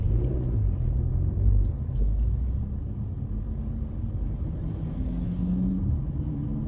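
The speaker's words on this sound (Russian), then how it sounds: "Машины, которые справа пошли" Cars pass along a city street in The Hague, a continuous low rumble of traffic with passing swells, heard from close by under open outdoor air.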